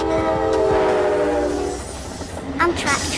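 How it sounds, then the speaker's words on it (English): An Amtrak passenger train passes, its horn blaring in a sustained chord over rumbling wheels that fades away, followed by a brief faint squeal. "Amtrak train."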